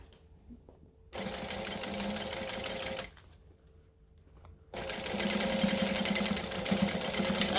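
A sewing machine stitching and back-stitching a fabric bag runs in two steady, whirring bursts, the second longer and slightly louder, with a brief quiet pause between them.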